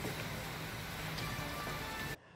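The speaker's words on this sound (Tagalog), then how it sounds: "bumuhos na ang malakas na ulan" Heavy rain pours down in the Philippines as a dense, steady hiss with scattered drop patter. It is fairly faint and unbroken, then cuts off abruptly near the end.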